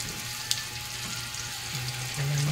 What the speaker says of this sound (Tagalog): Ilagay ang mga karni na pinirito na karni.